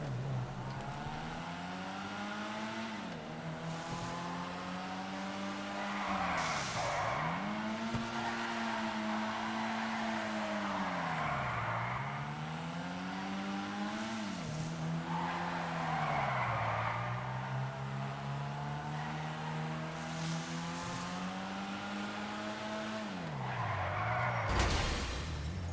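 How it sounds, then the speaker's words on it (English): A Cab Futo GTX car in a video game drives and skids repeatedly, engine note rising and falling in sweeping waves with tire squeal between, alone and fairly close over about twenty-five seconds. "the next car we're going to test is the Cab Futo GTX"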